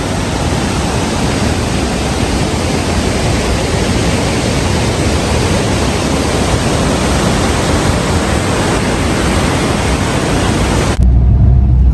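Athirappilly waterfall in Kerala roars as a loud, dense, unbroken rush of falling water close by, cutting off abruptly at the end.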